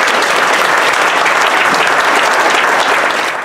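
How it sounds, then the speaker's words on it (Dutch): An audience at a book presentation during a garden party applauds with dense, steady clapping, loud and close for the whole stretch. "Een heel erg applaus voor deze dames."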